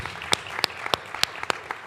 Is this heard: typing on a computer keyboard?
no